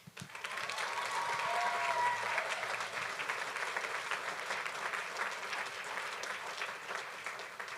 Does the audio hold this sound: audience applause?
yes